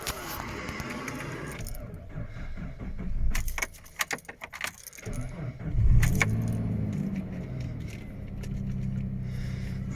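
Keys jangle and scrape briefly in the middle, between stretches of a 1999 Suzuki Grand Vitara 2.5 V6 engine idling steadily nearby.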